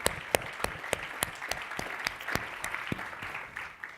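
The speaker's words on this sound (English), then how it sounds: "let's give them a round of applause" Delegates at the 2019 Shared Value Leadership Summit give the sponsors a round of applause, with crisp, regular nearby claps standing out above a steady crowd patter that eases off toward the end.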